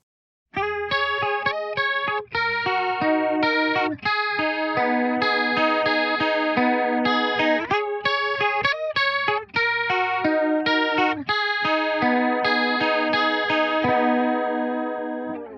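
Electric guitar through a Behringer Chorus Symphony analog chorus pedal set to high intensity: strummed and picked chords with a wobbling, shimmering, detuned swirl, played alone at a moderate pace with short gaps between phrases.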